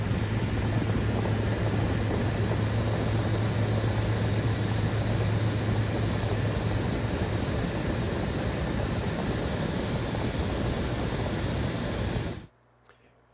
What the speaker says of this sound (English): You're going to hear the airplane that the photographer is in